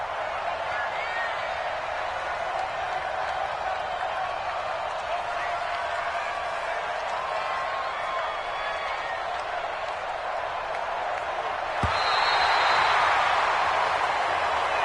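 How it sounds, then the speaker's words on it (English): A home crowd applauds and cheers in an American football video game on PS4 after a New England Patriots win, a steady distant wash of clapping and crowd noise that swells louder near the end, with someone talking over it. "And the home crowd applauding"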